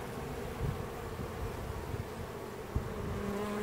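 Honeybees hum in a large beehive heavy with brood and honey, a dense continuous buzz close by, fairly quiet and steady, with a faint click near the end.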